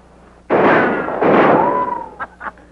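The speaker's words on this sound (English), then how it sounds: "Tell him to keep shooting, Abner." Two loud, close gunshot bursts ring out in an old 1942 comedy film soundtrack, each with a long decaying tail, followed by a couple of brief, fainter pops.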